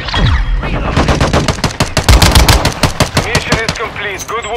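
Rapid machine gun fire in the Call of Duty: Modern Warfare II video game, loud and close, with dense bursts of gunshots across the whole stretch and brief shouted voices mixed in.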